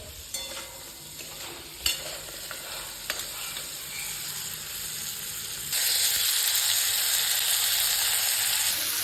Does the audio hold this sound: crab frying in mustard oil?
yes